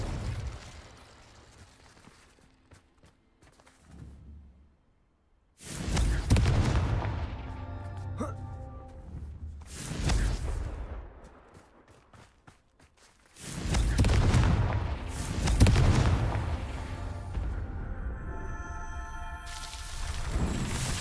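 Fire and blast spells burst in Hogwarts Legacy, with several heavy booming explosions rising loud over a low rumbling backdrop. Long roaring tails and crackling decays linger between them, with a few quieter stretches in the gaps.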